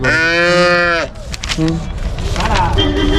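Cattle at a cow market let out a loud, close moo with a rising harmonic tone. Busy market noise and voices follow underneath.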